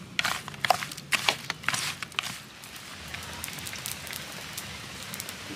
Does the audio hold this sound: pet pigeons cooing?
no